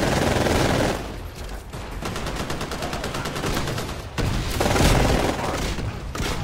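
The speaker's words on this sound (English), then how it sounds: "he got us with a EVA 8 shotgun" Dense rapid gunfire in Titanfall multiplayer, including an EVA-8 shotgun, rattling as a fast stream of loud close bursts with brief gaps and heavier booms, and no talk over it.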